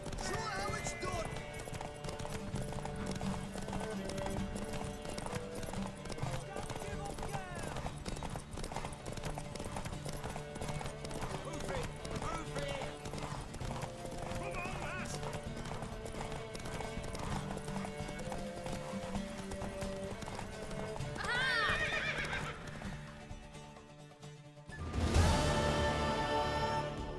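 Horse hooves clip-clop steadily through a race in The Witcher 3 under a constant bed of game music and voices, with a brief whinny and a burst of noise near the end.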